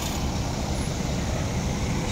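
West Sumatra buses departing from a bus terminal: a steady, loud low engine rumble of heavy vehicles nearby, continuous and even, with no talk.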